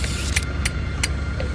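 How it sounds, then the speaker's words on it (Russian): Interior noise of a bus travelling in the Omsk region, a steady low engine rumble with a few sharp rattling clicks and clinks from the cabin, no talking. "Вот тут автобус шумит"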